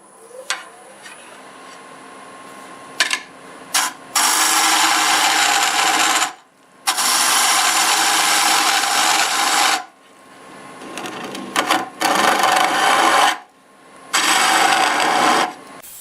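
A turning tool cuts into a spinning maple burl on a wood lathe, giving loud, rough scraping bursts of a few seconds each, separated by short pauses and quieter taps, close and with no voices.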